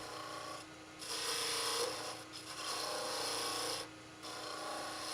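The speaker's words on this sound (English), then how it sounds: "So the last little bit you do with the spindle gouge." A spindle gouge cuts wood on a lathe, giving a steady close scraping hiss in sustained passes broken by a few short pauses. No voices.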